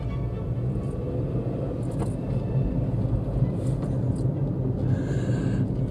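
Daihatsu Ayla 2014 manual hatchback pulling hard in second gear, a steady loud engine drone and road rumble heard from inside the cabin, with faint rattles and a higher whine toward the end.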